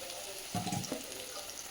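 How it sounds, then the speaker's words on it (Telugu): Onions frying in a little oil on a tawa, a soft steady sizzle with a brief louder stir and crackle near the middle, close and fairly quiet. "ఆనియన్స్ బాగా వేగుతున్నప్పుడు"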